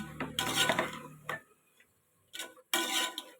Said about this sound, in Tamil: வெஜிடபிள்ஸ் எல்லாம் போட்டு மிக்ஸ் மிக்ஸ் மிக்ஸ் மிக்ஸ் செய்யணும்